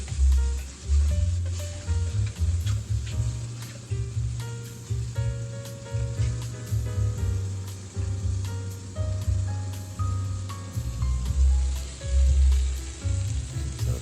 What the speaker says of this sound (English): we give it a quick toss in the pan, keep them moving around